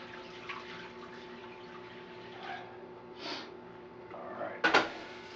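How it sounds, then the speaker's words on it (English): Excess water poured out of a cooking pan while making beef stew, heard as a few short splashes and a sharp clatter near the end, with faint kitchen background. "I've got too much water in this pan. So, I dump some out."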